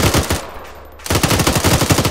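Sustained automatic gunfire in a combat video game, loud rapid bursts of machine-gun fire that pause briefly then resume in a dense, rhythmic stream.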